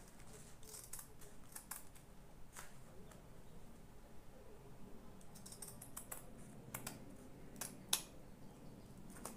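Scissors snipping through damask fabric while a fascinator cap is made, a quiet run of short crisp clicks and cuts spread across the whole stretch with no talking.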